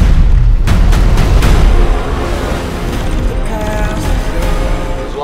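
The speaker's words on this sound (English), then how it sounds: "the artificial intelligence created to protect us detonated a nuclear warhead in Los Angeles" A nuclear warhead explosion in Los Angeles from the 2023 film The Creator: a loud, deep boom opens and settles into a long, rumbling roar that slowly fades.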